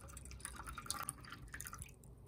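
Water is poured from a BUNDOK mini camping kettle fitted with a narrow coffee spout, making a thin, faint trickle with soft dripping splashes at close range.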